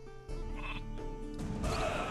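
Sheep bleat in the Viking strategy game Northgard, a few wavering bleats in quick succession over a soft game backdrop.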